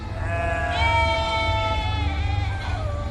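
A flock of sheep bleating: several overlapping wavering bleats, close and fairly loud, over a low rumbling background.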